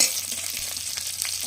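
Minced garlic and five green chillies sizzle in hot oil, a steady crackling hiss with a few sharper pops, close and moderately loud, no one talking.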